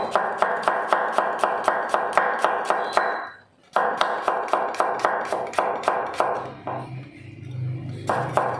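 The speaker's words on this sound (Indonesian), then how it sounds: "Bahan yang kedua, bawang putih, langsung aja diiris tipis seperti bawang merah tadi" A knife thinly slicing garlic on a cutting board in quick, even chops, a brief pause near the middle, then steady chopping again before trailing into quieter taps, close and clear with no talk.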